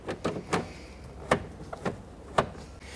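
Plastic interior door handle bezel snapped into a 1992-1996 Toyota Camry door panel, several close, sharp plastic clicks and knocks at irregular intervals.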